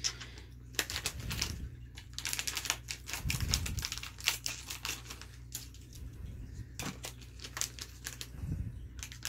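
Scissors cutting open plastic and paper packaging, close-up snips, crinkles and tearing in irregular bursts, with a few louder low thumps of handling.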